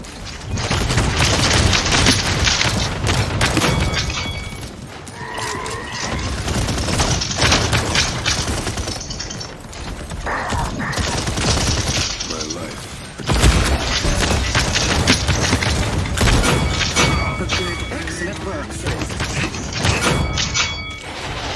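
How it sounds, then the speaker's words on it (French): A grenade explodes amid rapid gunfire and mechanical weapon sounds in the online shooter game Paladins, loud and dense combat effects filling the whole stretch with booms and bursts of shots. "Oh, il a lancé une grenade."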